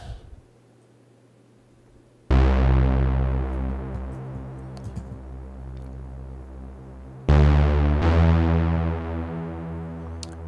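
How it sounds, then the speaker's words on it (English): Warbling square-wave synth patch with pulse width modulation, built in Propellerhead Reason for the Stranger Things theme, sounding as two loud sustained chords that ring out and slowly decay, the second entering after a pause, with no voices. "warbling squares, which is probably pulse width modulation"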